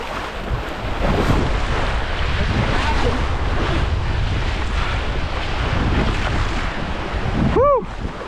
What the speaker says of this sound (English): The water's raging